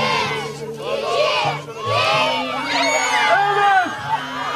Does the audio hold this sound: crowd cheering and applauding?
yes